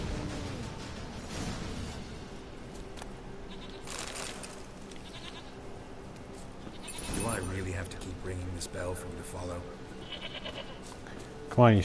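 A goat bleats in The Witcher 3, a couple of wavering cries standing out over game background noise and a few thuds, with a burst at the very end.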